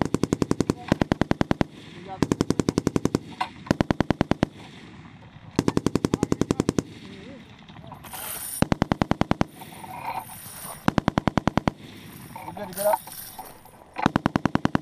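An M240B machine gun fires loud, rapid bursts on a range, several bursts separated by short pauses.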